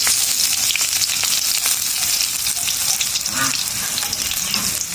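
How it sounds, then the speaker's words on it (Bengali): Onion frying in hot mustard oil, a loud, dense sizzle crackling continuously up close with occasional stirring. "এরপরে আমরা দিয়ে দিব পেঁয়াজ। পেঁয়াজটা ভেজে নেওয়া হবে।"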